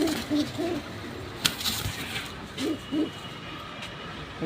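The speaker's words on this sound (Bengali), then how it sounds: "পাক কত সুন্দর কবুতরগুলা" Pakistani high-flyer pigeons (Giribaz breed) coo in soft, repeated low calls at an irregular pace. A few sharp knocks and steady background noise run underneath, with no one talking.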